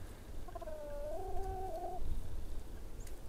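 Chickens on a homestead on a cold day with patches of snow. A single drawn-out, wavering fowl call is heard over steady outdoor ambience, and there is no talking.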